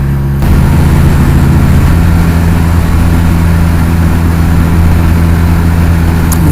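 A BMW K1200 motorcycle engine drones steadily while riding, a loud, close, continuous low hum with wind noise and no clear change in pace.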